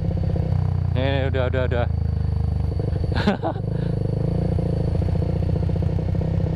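A motorcycle creeps along a slippery road, its engine a steady close rumble with rhythmic pulsing, joined by a short burst of rider talk and a brief clatter partway through.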